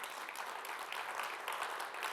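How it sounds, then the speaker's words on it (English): An audience claps steadily throughout a spoken address, a dense, even patter of many hands with no voice heard over it. "Can we give ourselves a round of applause"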